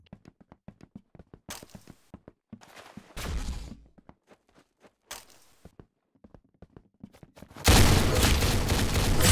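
Gunfire in the Roblox game Arsenal comes as rapid sharp shots and short bursts, with heavier volleys and a loud sustained barrage at the end.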